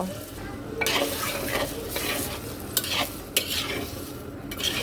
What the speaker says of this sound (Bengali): দিয়ে দেব এর মধ্যে সামান্য পরিমাণে জল মশলাটাকে কষানোর জন্য